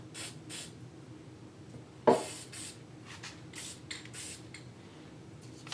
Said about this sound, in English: I'm using some Watco semi-gloss aerosol lacquer here, and I'm just going to put a light coat on the base.